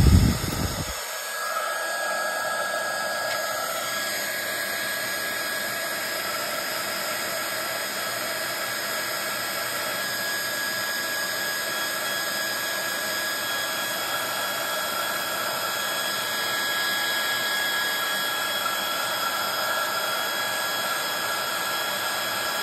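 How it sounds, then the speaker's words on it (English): A handheld heat tool blows steadily to dry a paint glaze on a mixed media piece, a loud continuous whooshing hum that starts abruptly and holds even for over twenty seconds, alone without talk. "So I'm just going to dry this off a bit with my heat tool."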